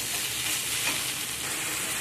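Ground coriander, cumin, turmeric and chilli powders stirred together as they fry in a pan for a sea mourola fish jhal, a dense, steady close sizzle with scraping stirs throughout and no talk.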